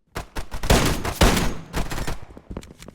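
Gunfire in the video game Bombline, a burst of loud sharp shots in quick succession, including sniper fire, with dense overlapping cracks over about three seconds and no talking.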